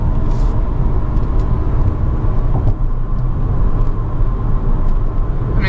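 A 2016 Kia Optima SX Turbo on the road, heard from inside as a steady, loud low rumble of engine and road noise that holds constant throughout with no talking.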